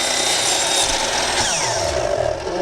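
Power saw trimming the corners off small wood pieces to make flats for corner supports, a loud continuous cutting whine with a shifting pitch as the blade bites through, close and without talk.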